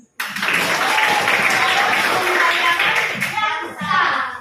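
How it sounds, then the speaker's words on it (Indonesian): A classroom of pupils applauds on a teacher's cue, a dense burst of clapping that starts abruptly and holds steady for several seconds before tapering, close and loud. "Tepuk tangan."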